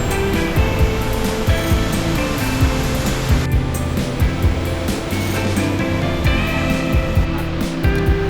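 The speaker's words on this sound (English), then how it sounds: "There is also a second waterfall hidden inside this small cave." A second waterfall tucked inside a small cave in Iceland gives a steady, close, loud rushing roar of falling water, continuous throughout with no voices.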